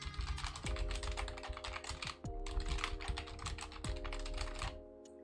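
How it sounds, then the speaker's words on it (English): A PS2 computer keyboard being typed on, with a rapid stream of close, crisp key clicks. Steady tonal chimes sound underneath and restart three times. "It's pretty good tappy taps"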